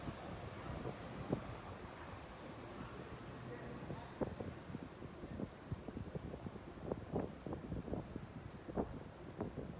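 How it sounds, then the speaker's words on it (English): Steady gusty wind roars across the microphone outdoors on the Upper West Side of New York City, with broadband rumble and scattered buffeting thumps throughout. "it's really, really windy on the Upper West Side, like super windy"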